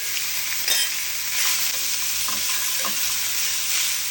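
Five-spice marinated pork sizzles and fries in a hot pan, a loud, steady hiss with occasional scraping stirs, close by and heard alone without speech.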